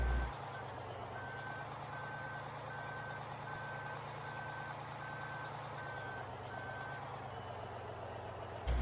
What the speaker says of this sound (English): Let's move the truck around a little bit. We'll turn it sideways.